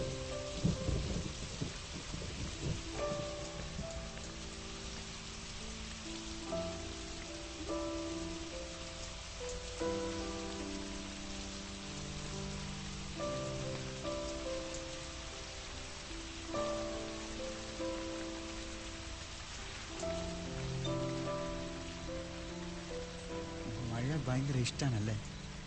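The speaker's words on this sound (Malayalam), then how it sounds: "മഴ." Steady rain falls with rolls of thunder, a constant wash of downpour under a tonal music score, with a louder rumble near the end.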